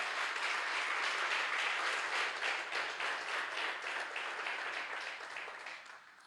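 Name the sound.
church congregation applause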